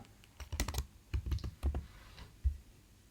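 Quiet typing on a computer keyboard: short bursts of rapid key clicks separated by brief pauses, with a single firmer keystroke near the end, close and soft with no talk.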